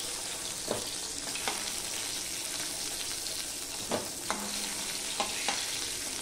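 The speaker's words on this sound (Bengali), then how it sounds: "তার জন্য দেখো মাছগুলো আমি ভেজে নিচ্ছি" Katla fish pieces fry in hot oil with a constant sizzle, broken by several sharp utensil scrapes and clicks as the pieces are stirred and turned.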